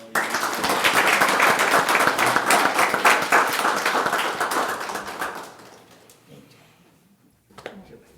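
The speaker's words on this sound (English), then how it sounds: "Please give them a round of applause." Applause rises from the audience at a county board meeting, a loud steady crowd clapping that fades out after about five seconds, leaving near quiet with a few stray sounds.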